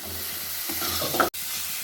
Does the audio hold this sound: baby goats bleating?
no